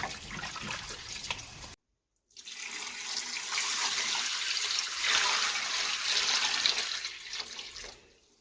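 Soaked pork bones for gamjatang are rinsed under a steadily running kitchen tap, water splashing continuously into a sink with one brief gap where the flow stops, then resuming loudly and close by.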